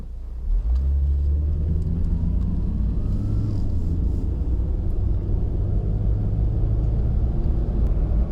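Steady low engine rumble and road drone from a 2003 Toyota RAV4 L with a four-speed automatic, cruising along without pause, loud and continuous from inside the cabin.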